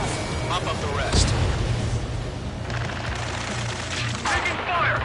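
Gunfire from the video game Ace Combat 7: Skies Unknown, a dense battle mix of shots and rumbling blasts running steadily throughout, with urgent voices shouting over it.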